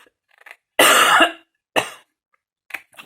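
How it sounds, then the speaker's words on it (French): A woman coughs alone in a quiet room during a papercraft session: a few faint throat sounds, then one strong harsh cough, a second shorter cough and a faint final one. "Quand ça commence à me gratouiller comme ça, je tousse toute la journée."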